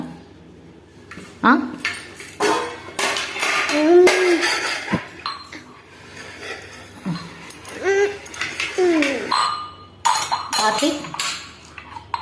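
Children banging a beat on metal pots and pans with utensils, irregular clanging and ringing hits in clusters with chinks of cutlery, while voices talk and chatter over the noise.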